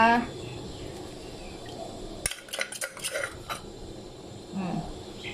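Pounded chili paste with lemongrass and shallots is scooped into a pot, giving a short burst of scraping and clinking from a spoon against metal amid quiet background noise.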